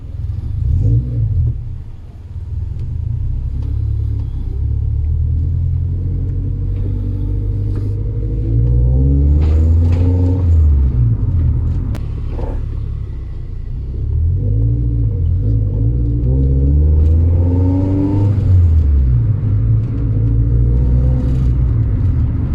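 A 1996 Honda Civic VTi pulls away, its engine rumbling low with rising and falling revs through several gear changes, heard steadily from inside the car, close and continuous.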